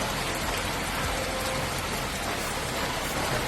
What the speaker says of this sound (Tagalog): lakas ang ulan dito